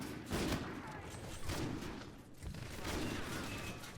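Repeated gunfire in the video game Infinite Warfare, several sharp shots and bursts spaced across the span, moderately distant and fairly quiet, mixed with other game noise.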